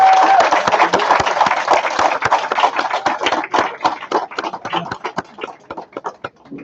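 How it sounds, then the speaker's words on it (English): Audience applause for a committee at a Lebanese heritage display: a dense, steady burst of many hands clapping close by, gradually thinning toward scattered claps by the end, with no talk over it. "the committee deserves a round of applause"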